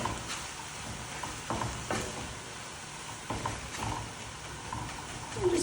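Crumbled tofu gets stirred into sizzling vegetables in a pan, with a soft continuous frying hiss broken by several distinct scrapes and taps of a utensil against the pan.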